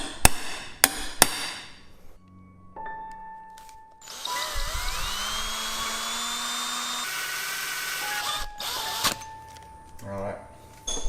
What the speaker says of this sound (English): Can go ahead and center punch it.